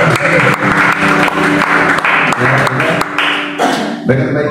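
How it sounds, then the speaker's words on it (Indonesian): A congregation at a church service held in a Jakarta apartment claps in applause, loud and sustained, with voices and tonal sounds mixed in underneath. "Berikan tepuk tangan."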